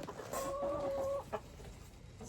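A backyard homestead chicken gives a drawn-out clucking call followed by a short cluck, fairly quiet against faint ambient background, with no talk.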